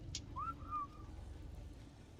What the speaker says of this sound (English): Now, I've got to whistle aggressive